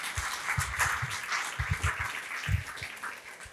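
A concert audience applauds after a piano recital. The clapping is moderately faint and steady for several seconds, with some scattered louder claps.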